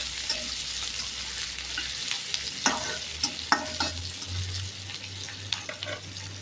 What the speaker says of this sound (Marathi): तेल गरम झाले, यामध्ये मोहरी टाकायची, कांदा, लसूण टाकू. त्याला असं चांगलं मिक्स करून घेऊया.